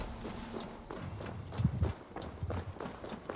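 Horse hooves clip-clop steadily at a walking pace in Assassin's Creed Valhalla, a Viking-era action game, with soft thuds that swell slightly in the middle, set against low ambient game sound.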